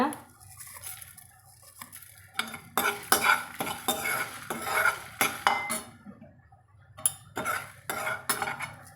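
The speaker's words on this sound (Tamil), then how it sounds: "சீரகமெல்லாம் வெடித்து இப்படி சத்தம் வருதுங்க" Cumin seeds with peppercorns and dried red chillies dry-roasting in a pan for Karaikudi-style kara sambar, giving irregular crackles and scraping stirs against the metal, close and fairly quiet with no talk over them.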